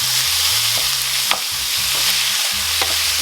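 Minced beef and onion being stirred in a frying pan, a steady sizzle with occasional scrapes and knocks of the utensil against the pan, close and clear with no talking.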